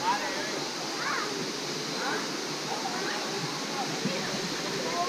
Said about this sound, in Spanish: Para grabar la cascada.